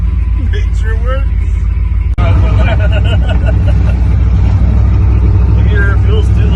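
An ice cream truck engine idles and runs in a low, steady rumble during a test drive, loud and close, with a brief bump midway and a voice talking over it.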